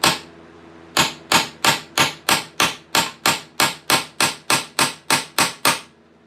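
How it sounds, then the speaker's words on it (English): Sharp metallic hammer blows on a center punch against a piece of medieval leg armour, about fifteen evenly spaced loud close strikes after a single opening hit. "I could probably punch it with my center punch. Punch out the hole."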